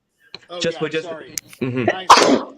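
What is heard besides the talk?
sneeze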